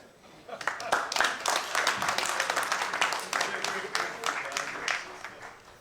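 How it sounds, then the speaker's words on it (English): An audience applauds after a public lecture on African liberation and anti-fascism. Dense, steady clapping builds quickly and carries on for several seconds at moderate loudness, with some talk mixed in. "I think we should give another round of applause to Comrade Vijay"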